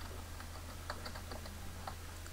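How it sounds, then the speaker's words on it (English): Password being typed on a computer keyboard while resetting a forgotten Linux Ubuntu login, a quiet, irregular series of light key clicks over a steady low electrical hum, with no talking. "I'm going to type a password."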